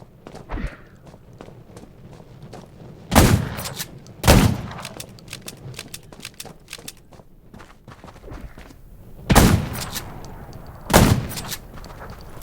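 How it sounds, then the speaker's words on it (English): Gunfire in the zombie survival game Undawn: four loud, sharp shots spaced a few seconds apart, standing out over a steady low bed of footsteps and ambient game noise. "Gunshots will attract more zombies."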